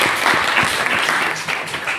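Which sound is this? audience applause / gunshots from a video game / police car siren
audience applause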